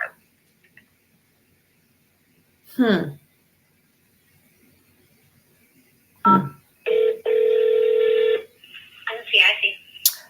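Automated phone menu line for a police non-emergency service, with a short burst of keypad dialing tones followed by a steady held tone and a few clicks, sparse and close, mostly without talk.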